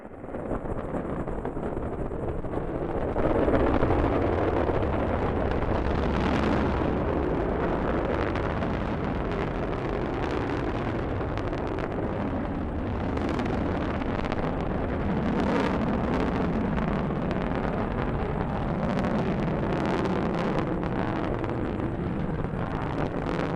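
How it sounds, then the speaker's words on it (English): Delta rocket carrying the GLAST gamma-ray telescope lifting off from Cape Canaveral, a sustained loud broadband roar with gusty crackle that swells early and rumbles on steadily throughout. "Liftoff of the Delta rocket carrying GLAST, a gamma-ray telescope searching for unseen physics in the stars of the galaxies."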